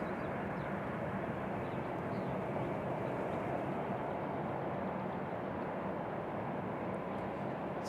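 A Republic Airways jet departs Raleigh Durham airport toward JFK, heard as a steady distant engine roar of broadband rushing noise, sustained and even throughout with no voices.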